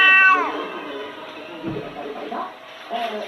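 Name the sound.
cat meowing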